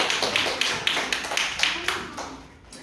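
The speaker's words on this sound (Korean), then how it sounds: "우리 감사의 박수 영광 드리겠습니다." Children in a church service clap in a brief burst of fairly quick, even claps at close range, thinning out and fading after about two seconds.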